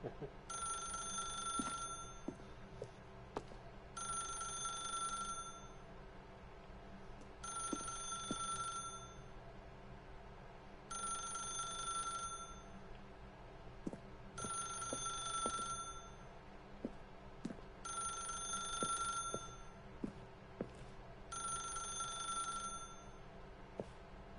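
A telephone rings in The Stanley Parable Ultra Deluxe, with seven evenly spaced electronic double-trill bursts separated by short pauses over a faint low room hum.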